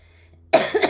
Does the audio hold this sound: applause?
no